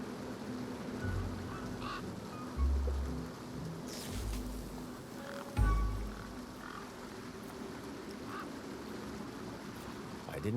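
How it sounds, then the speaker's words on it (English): A large bird in the video game Beyond a Steel Sky gives low, croaking honks, two louder calls standing out over a murky ambient background. "One particularly large and familiar bird stood out from the rest."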